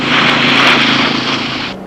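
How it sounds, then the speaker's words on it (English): An airliner's engines drone loudly and steadily in flight, a close, constant roar with no voices that cuts off abruptly near the end. "this is an airliner, not a jet fighter."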